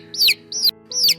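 Baby chick on a farm cheeping three times, each call a sharp high downward-sweeping peep, loud and close with steady gaps and no voices.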